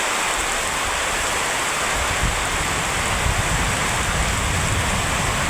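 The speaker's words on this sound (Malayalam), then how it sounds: "രക്ഷയില്ലാത്ത മഴ." A heavy downpour roars steadily and densely from start to finish, loud and close, with no voices or other sounds breaking through the rain.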